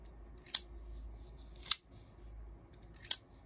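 An Orion Solaris folding knife blade with a button lock drops open three times. Each release gives a sharp metallic snap, close and crisp, separated by quiet pauses.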